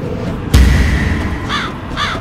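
A crow caws twice outdoors, close and clear, the two calls coming about half a second apart after a dull thump, with no voices.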